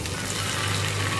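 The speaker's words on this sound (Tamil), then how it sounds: "இப்போ வந்து நல்லா இதை சேர்த்து நம்ம ஃப்ரை பண்ணிக்கலாம்" Shark puttu, crumbled shark meat with ginger and garlic, frying in a pan: a steady, even sizzle and hiss that holds at moderate level throughout, with no speech over it.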